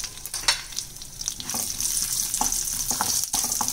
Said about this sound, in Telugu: నెయ్యి కొద్ది వేడైంది కదండి, జీడిపప్పు వేసుకుంటాం